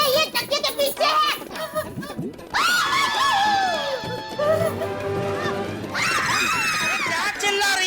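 A woman screams in a domestic comedy scene, with long sustained high-pitched shrieks that rise out of brief earlier talk, broken by a short pause before a second loud burst of screaming.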